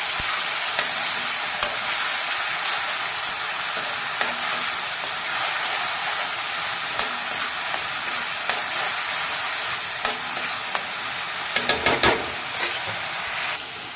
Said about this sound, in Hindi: अब इसमें जाएंगे ये क्रश टमाटोज। टमाटो क्रश करके ही डालना